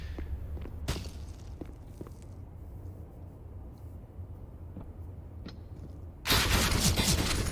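Counter-Strike gunfire from a professional Astralis vs AGO match: scattered sharp single shots, including a wall bang through cover, over quiet ambient noise, then a loud dense burst of fire near the end.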